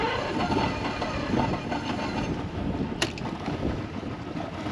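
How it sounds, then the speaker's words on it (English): An older boat engine with fuel issues being primed and cranked on a lake, a steady broadband mechanical rumble with rattling texture running throughout and one sharp click near the end, fairly loud and close with no talk. "let's prime her up nice and good. And see if she cranks."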